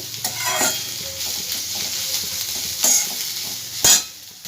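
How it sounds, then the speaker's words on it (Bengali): Kharkon paste sizzles in a pan over a medium gas flame while a spoon stirs it, with scraping strokes and a couple of sharper knocks against the pan, close up and without talk. "এতক্ষণ আমি লোয়েতে ভাজছিলাম, এবার মাঝারিতে আমি দিয়ে দিলাম"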